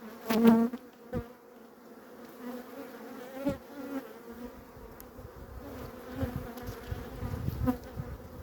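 Honeybees hum and buzz steadily up close at an open hive, a dense insect drone with a few sharp knocks and taps against wood near the start.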